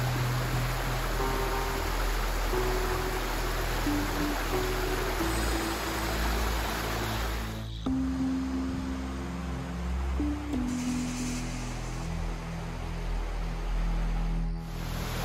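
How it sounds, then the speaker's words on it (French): A waterfall on a mountain pass along the Col de Font Froide crossing roars as a steady, broad rushing wash of falling water, constant and fairly close with no voices. "Deuxième cascade,"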